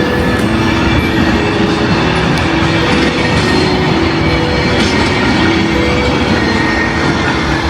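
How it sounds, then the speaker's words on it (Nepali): A very long train rolls past close by in Europe, its steady broadband rumble and rail noise continuous and loud throughout with no voices. "उता परसम्म गइसक्यो कि ट्रेन त एकदम लामो रहेछ।"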